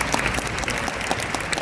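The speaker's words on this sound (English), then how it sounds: "Another round of applause for the Amway business." An audience at a business sharing event claps for an Amway business. The applause is brief, steady and moderately loud, a dense patter of many hands with no voices on top.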